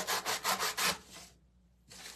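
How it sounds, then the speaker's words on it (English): A sanding block rubs back and forth along wood edges to distress them, in five quick rhythmic strokes, a brief pause, then another stroke begins; close and steady. "sanding block"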